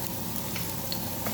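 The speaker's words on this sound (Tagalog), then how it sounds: "nagpainit na tayo dito ng ating mantika. And, lagay na natin ang ating sibuyas." Onions sautéing in hot cooking oil in a pan, a steady close sizzle and crackle running throughout with faint stirring clicks, no talk.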